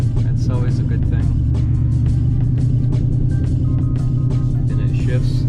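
A 2017 Ford F-150 pickup, theft-recovered, driving under its own power, giving a loud, steady engine rumble with a constant drone throughout and no clear revving.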